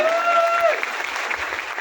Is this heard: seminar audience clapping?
yes